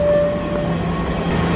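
A subway train rumbles through a Washington DC metro station, a steady loud mechanical roar with a sustained tonal whine, close and continuous with no talking.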